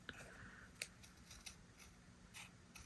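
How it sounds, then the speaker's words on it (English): Scissors snip around a paper peacock shape in a run of quick, sharp cuts, close and crisp with small pauses between them, with no voices. "I'm just going to take my scissors and fussy cut"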